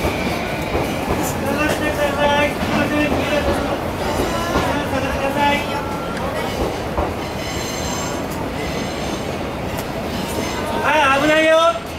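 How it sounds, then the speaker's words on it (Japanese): The Hokutosei sleeper express pulls into Omiya station with rumbling wheels, rail clatter and squealing brakes, heard close on the platform while station announcements and crowd voices carry over it. "9番線電車入線しております。"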